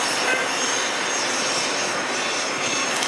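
Diesel locomotive passing during railfanning, a loud, steady roar close by with no voices over it.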